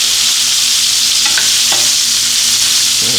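Swordfish fries in a pan with a loud, constant sizzle as it is stirred and moved around, with a few soft scraping knocks of the utensil.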